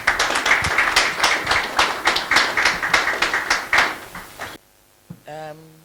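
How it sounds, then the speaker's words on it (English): Audience applause for a professor at a panel discussion on mining and mineral rights, a steady run of close claps and slaps for about four seconds that cuts off sharply, followed by a short voice. "Prof needs another round of applause."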